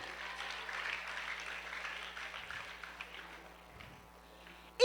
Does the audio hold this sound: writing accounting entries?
no